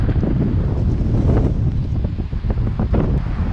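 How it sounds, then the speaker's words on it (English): Strong gusty wind buffets the microphone outdoors on a stormy day, a loud, continuous low rumble with rough fluttering surges, close and unbroken, with no voices. "It's windy out here today."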